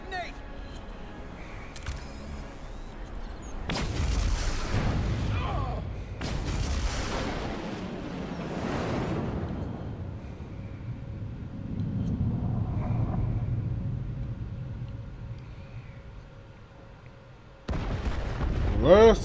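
Detonations in the Star Trek: Resurgence video game go off as several deep booms and rumbling blasts, rising and fading over the span, with a sharp burst near the end.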